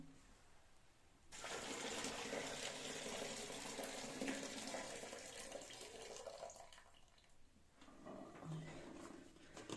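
Water from boiled beans being poured off and drained away in a kitchen, a steady loud splashing rush lasting several seconds alone, with no voices over it.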